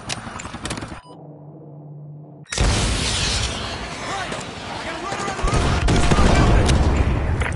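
Call of Duty: Modern Warfare 2 Remastered combat: a radio voice speaks over a low hum, then a sudden heavy blast opens into continuous rumbling explosions and crackling gunfire that builds in loudness.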